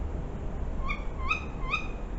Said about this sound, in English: That noise you hear is an owl getting perturbed about a fox.